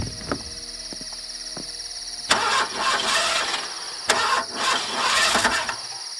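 In a Tamil movie scene, a car engine cranks and fails to start, with a whirring crank near the start followed by two loud, rough bursts that die away without settling into an idle.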